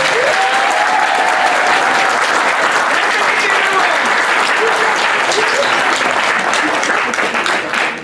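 Wedding guests give sustained, dense applause, a loud, steady crowd of clapping hands that continues without pause and fades slightly at the very end.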